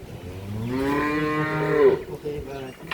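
A cow or calf on a farm gives one long, loud mooing call that rises and falls for over a second, ending in a few shorter grunting lows.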